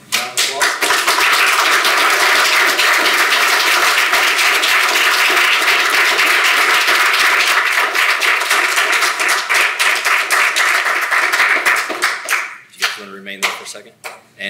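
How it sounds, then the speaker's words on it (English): Sustained applause and clapping from an audience at a firefighter swearing-in ceremony, loud and steady for about twelve seconds before tapering off into scattered claps. "you guys like give these two round of applause"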